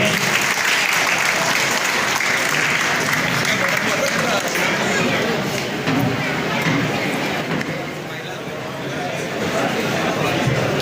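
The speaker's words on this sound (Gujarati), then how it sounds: "જોરદાર તાળીઓના ગણગણાટથી વધાવીએ." Dense, sustained applause from a large audience at a Kheda district police felicitation and farewell ceremony, steady and loud throughout with a slight dip near the end.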